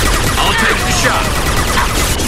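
Mass Effect 2 firefight: dense bursts of gunfire crackle loudly across the whole clip, sharp overlapping shots with a busy, noisy backdrop.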